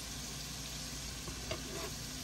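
Turkey burgers frying in butter and oil in a pan, a steady close sizzle that holds evenly throughout with a faint clink midway and no talking.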